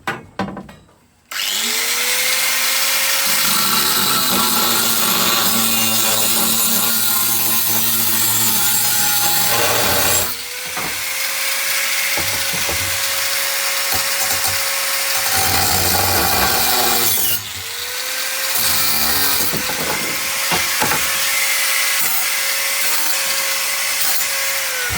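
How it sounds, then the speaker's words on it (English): An angle grinder cutting steel cab cross bracing on an 80 Series: loud, sustained whining grind in three long passes, each starting with a spin-up and separated by brief pauses, no talk. "We got the grinder on."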